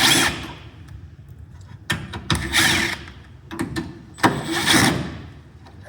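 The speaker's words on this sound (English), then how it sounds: "take these self-tappers out. There's 4 of them. That's what our impact driver with the 1/4 inch driver or bit is" An impact driver with a 1/4 inch bit backs out self-tapping screws from a drain fitting, giving several short, loud bursts of whirring and rattling hammering separated by brief pauses.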